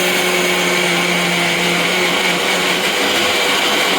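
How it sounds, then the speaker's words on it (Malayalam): An old kitchen mixer grinder runs at full speed, a loud, steady, high-pitched motor whine and blade roar that continues without a break, with no talking over it. "മിക്സിയായി."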